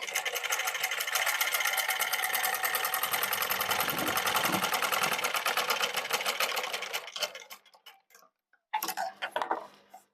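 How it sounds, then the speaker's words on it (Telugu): A sewing machine stitches with its bobbin thread reversed for a bead stitch, running in a fast, even mechanical rattle for about seven seconds, then slowing and stopping with a few short bursts of stitching near the end. "ఇప్పుడు బాబిన్ దారం నేను రివర్స్లో పెట్టి కుడుతున్నా చూడండి"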